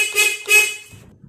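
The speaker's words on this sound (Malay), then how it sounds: "horn pun dah hidup sekarang" Car horn working again after a repair sounds two short honks in quick succession, loud and close, followed by quiet.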